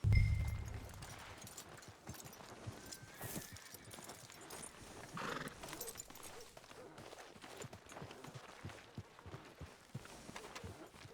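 Hoofbeats clip-clop steadily from a horse in the video game Red Dead Redemption 2, with a brief neigh early on, all at moderate level over faint ambient game sound.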